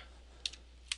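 Two quick, crisp key presses on a computer keyboard, Alt then Delete, each a short sharp click about half a second apart, close and fairly quiet over a low steady background hum.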